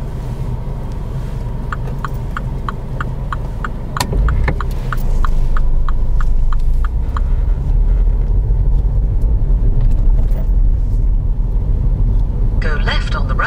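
A car pulls away in the rain during a mock driving test, its engine rumbling steadily from inside the cabin with a regular ticking indicator, while an instructor's voice speaks over the sound.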